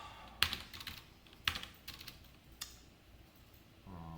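Code is typed on a computer keyboard during a React and Android programming lesson. A few soft clusters of keystrokes and clicks sound close by and quiet, followed by a short pause and no speech.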